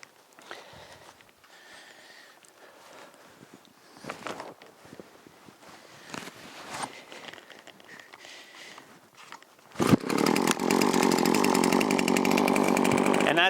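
Quiet rustling and footsteps, then a gas-powered pole saw roars to life and runs loudly and steadily up close.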